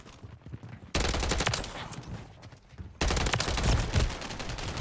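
Automated sentry gun in Call of Duty: Modern Warfare III pours out rapid, sustained bursts of gunfire that kick in loudly after a quieter opening, with a second surge of fire near the end.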